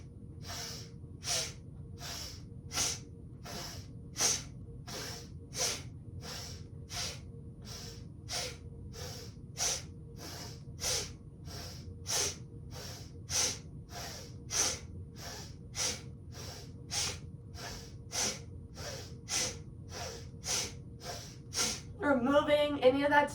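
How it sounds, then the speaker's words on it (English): Forceful breath-of-fire style breathing through the nose during kundalini yoga, a long steady train of sharp rhythmic exhale bursts about twice a second, close and clear, with a faint drone beneath and a rougher flurry at the very end. "just beginning using that nice forceful exhalation and inhalation through the nose."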